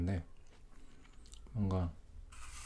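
A crunchy organic apple bitten and chewed close to the microphone, with short crisp crunches early and again midway, and talk present.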